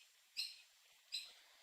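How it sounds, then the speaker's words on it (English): Two short, faint high-pitched bird chirps roughly three-quarters of a second apart, coming from birds outside with no voices present. "Those birds are so loud."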